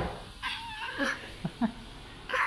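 A young child imitates a cat, producing a few short high meow-like cries, close and clear, with adult voices briefly around them.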